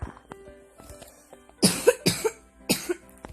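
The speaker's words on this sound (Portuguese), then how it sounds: "eu tosse" Three sharp coughs in a row from one person, close and loud, after a quiet stretch with faint clicks and soft background noise.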